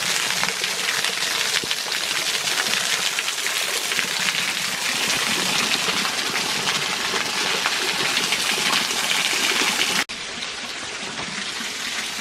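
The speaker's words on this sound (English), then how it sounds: "The other side of the waterfall now." A forest waterfall roars steadily and loud in a broad, unbroken rush of falling water, continuous throughout with no voices, then drops slightly in level near the end.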